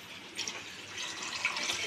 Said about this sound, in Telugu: వాటర్ పోద్దాము